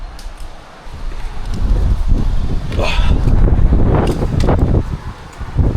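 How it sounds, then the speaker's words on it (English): Wind gusting through the branches of a large decayed tulip tree, a broad rushing roar that swells and holds steady with rustling leaves and occasional knocks, fairly loud and close to the microphone, with no talking. "Wind's picking up too."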